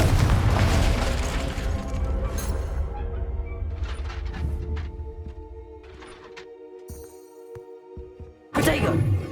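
A Confringo explosive spell bursts in Hogwarts Legacy, a loud booming blast with rumbling low end that decays under game ambience, followed by a second sharp impact near the end.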